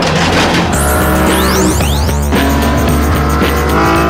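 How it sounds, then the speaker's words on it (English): BMW M3 CSL screaming at high revs on a test track, its engine note sweeping up through rapid gear changes, loud and close with some tyre noise. "This then is the ideal place to test the most hardcore BMW ever made."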